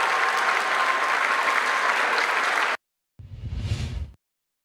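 Applause rings out loud and steady for a few seconds before cutting off, then a shorter burst of clapping follows from an audience at a school event in Kingsville, Texas.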